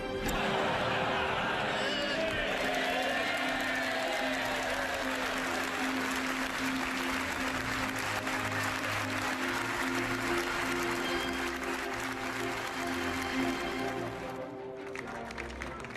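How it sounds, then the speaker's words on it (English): Sustained applause for David Cameron outside after a standing ovation on his benches, a continuous dense roar of many hands, heard at some distance and thinning near the end. "After that standing ovation on his own benches, more applause outside"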